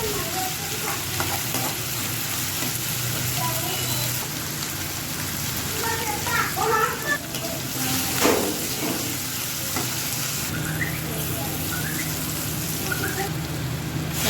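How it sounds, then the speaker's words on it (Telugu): Green chillies, curry leaves and onions fry in hot oil for an Andhra-style chicken curry, giving a steady, moderately loud sizzle that runs throughout with a few sharper crackles midway. "ఆయిల్ వేడయ్యాక 4 పచ్చిమిరపకాయలు, 2 రెమ్మల కరివేపాకు, 2 ఆనియన్స్ వేసుకొని 5 మినిట్స్ ఫ్రై చేయాలి"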